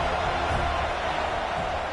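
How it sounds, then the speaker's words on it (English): Loud home crowd noise from a video game football broadcast, a continuous dense roar of cheering fans filling the whole moment with no break, with no commentary over it. "how nice is it to have the home crowd going absolutely bananas?"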